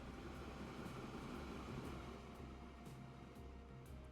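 A train in the video game Transport Fever 2 gives a faint, steady rumble with a soft rhythmic pulse of wheels, running evenly throughout.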